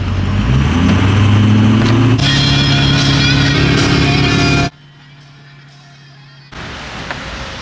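A Ford 6.0 Powerstroke diesel truck driving, its engine loud and close with rising revs, then a sudden drop to a quieter steady cabin drone before the road noise swells again.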